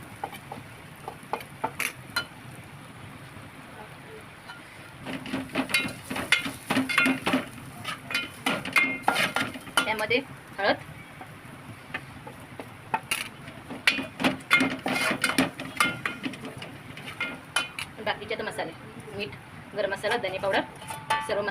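Spices stirred and fried in oil in a pan for a bottle gourd kofta curry. A spoon scrapes and clinks against the pan in quick irregular bursts, busiest after the first few seconds, over a low background.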